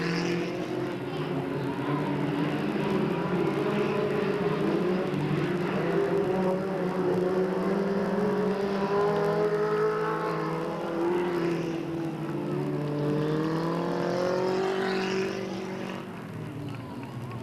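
Stock cars race around Delta Speedway in 1997, a dense layered engine roar with multiple cars droning and shifting pitch as they circle, loud and sustained before easing slightly at the end; a commentator's voice may run faintly underneath.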